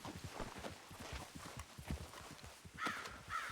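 Horse hooves clip-clop at a steady walking pace in Red Dead Redemption 2, with soft ground noise and faint background sounds around the footfalls.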